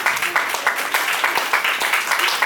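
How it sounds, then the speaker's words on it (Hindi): An audience at the Rajasthan Karmveer Award 2024 ceremony breaks into dense, sustained applause: many hands clapping in a continuous loud patter that lasts throughout, with no voice over it. "जोरदार तालियां से स्वागत।"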